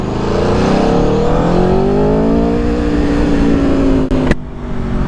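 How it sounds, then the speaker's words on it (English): An Aprilia Tuono V4 Factory 1100 motorcycle engine revs high and accelerates hard, its pitch climbing steadily through the gears, loud and close, then cutting off abruptly near the end. "All Aprilias, man, they have a great sound."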